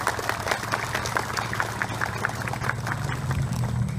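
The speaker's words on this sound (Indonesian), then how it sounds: "tepuk tangan." Audience clapping at an XTC Soreang 22nd anniversary gathering, a dense steady patter of many hands with crowd murmur underneath and a low hum, continuous for several seconds.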